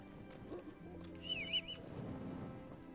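A horse in the medieval video game Kingdom Come: Deliverance gives a short whinny midway, with soft hoof and ambient game sounds around it.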